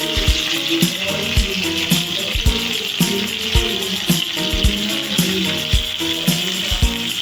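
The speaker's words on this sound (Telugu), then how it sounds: "నెక్స్ట్ ఆయిల్ బాగా కాగాక కాగిన తర్వాత ఆనియన్, కరివేపాకు వేసుకోవాలి. పచ్చిమిర్చి కూడా వేసుకోండి." Onion, curry leaves and green chillies fry in hot oil for a prawn curry, a steady close sizzle broken by regular clanking spatula strokes against the pan, with music in the background and no talk.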